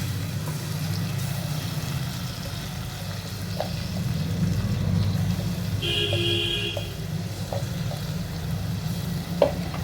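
Chopped tomatoes sizzle in a frying pan, giving a steady moderate crackle over a low background hum, with a few light clinks of a utensil.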